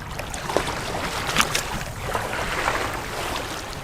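Strong wind roars and buffets the microphone in gusts during a late-fall wilderness canoe trip on a lake, with a constant rushing noise and a few sharper blasts.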